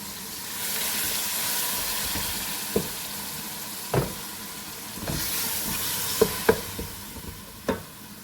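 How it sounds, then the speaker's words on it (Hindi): Spiced masala for beef trotter curry sizzles and fries steadily in a pan while a spoon stirs it, with occasional sharp scraping knocks against the pot, close and continuous. "देखिए मसाला भूनते हुए हमें 5 मिनट हो गए"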